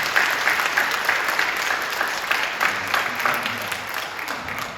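A church congregation applauding its pastor, a dense, sustained round of clapping from many hands that fades slightly toward the end.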